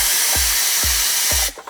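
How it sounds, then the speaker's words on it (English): A strut spring compressor on a 991.1 Porsche 911 Carrera 4S is backed off with a loud pneumatic impact tool, a continuous hiss broken by three evenly spaced low thuds before it stops abruptly. "The old spring, we can decompress this spring compressor,"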